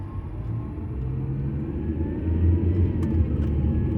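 A car's engine and road noise form a steady low rumble from inside the moving vehicle, swelling slightly as it gains speed.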